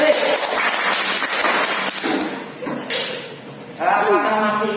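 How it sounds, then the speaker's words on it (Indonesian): A madrasah classroom of pupils claps for themselves, a loud sustained patter of many hands mixed with children's voices and chatter throughout. "tepuk tangan untuk kita sendiri"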